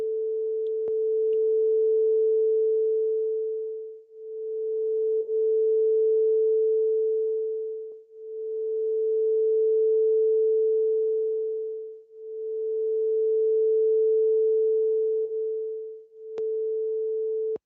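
Two overlapping sine-wave oscillators at nearly the same pitch produce a steady pure tone that swells and fades in slow beats about every four seconds, soft and alone, with a few faint clicks.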